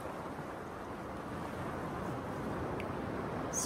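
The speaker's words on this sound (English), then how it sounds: "Take some time to listen to the waves and stretch." Ocean waves wash in at sunset as a steady, full surf roar. The sound swells slightly toward the end, with no voices.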